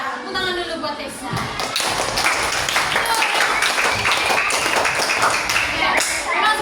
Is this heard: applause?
yes